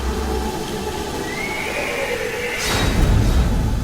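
A horse neighs in a rising, shrill whinny, fairly loud against a noisy background, followed by a burst of louder rumbling and shuffling toward the end.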